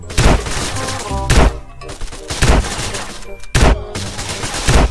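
Shotgun blasts in a GTA San Andreas DYOM SWAT mission: five loud, heavy shots spaced about a second apart, each with a booming thud and ringing tail, close up, with game noise between them.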